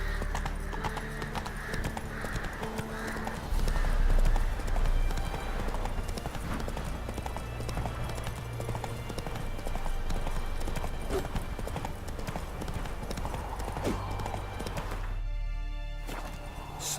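Horse hooves galloping in a video game, a steady clip-clop rhythm running throughout at close range, with a brief whinny, over layered game music and ambience and a short dropout near the end.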